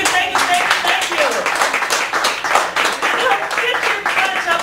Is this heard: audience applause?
yes